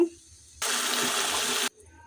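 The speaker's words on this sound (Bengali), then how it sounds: "এবার পানি অ্যাড করে দিব।" Hot water poured into a cooking pot of fried rice and mung lentils for khichuri, a single steady gush of about a second, fairly close and clear.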